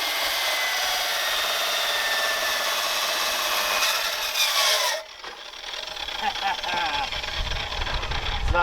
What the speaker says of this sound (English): I'll drop a clip right here of us using a chop saw to cut them up